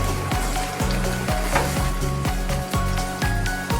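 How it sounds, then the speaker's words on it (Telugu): Ginger garlic paste fries with onions in a pan for chicken biryani, a loud steady sizzle with a rhythmic series of spoon strokes against the pot, close and without talk. "ఇక నేనైతే ఇక అల్లం వెల్లుల్లి పేస్ట్ అయితే వేసుకుంటున్నాను."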